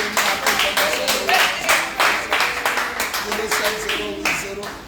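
Congregation clapping together in a church during a prayer service, a steady rhythmic beat of many hands close by, with voices mixed in underneath.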